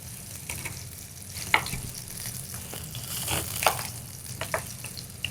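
Onions going into a hot pot to fry, giving a steady close sizzle with scattered crackles and a few louder pops and clinks of handling.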